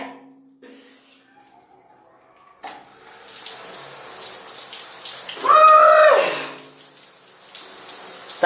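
Water runs loudly from a tap into a bath, a continuous rushing hiss after a quiet start, swelling briefly louder midway, with an exclamation mixed in.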